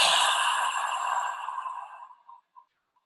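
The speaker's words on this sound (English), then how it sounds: "Now big exhale out for 8." A long, deep exhale during 4-7-8 breathing, a breathy hiss that starts full and steady, then gradually fades over a few seconds to a few faint puffs at the end, heard alone and up close.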